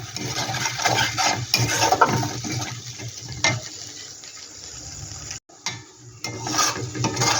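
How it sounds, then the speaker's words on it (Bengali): A fried mixture with tomato sauce and chili sauce being stirred in a pan, a wet, churning scrape with sizzling hiss, loud and continuous apart from a brief cut near the end. "এটাকে ভালো একটু আমি মিশিয়ে নেব ভালো করে"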